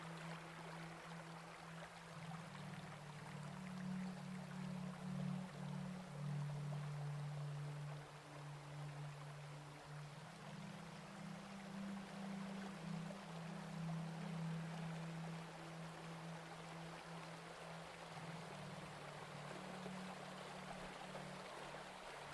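Water flows steadily beneath a bridge over a Himalayan river in spring, a soft continuous rushing with no breaks, fairly faint and heard alone without voices.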